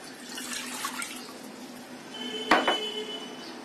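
Water running into a pan set on a stove for rice-flour pitha dough, a steady soft trickle joined midway by a sharp metallic clank of the pan.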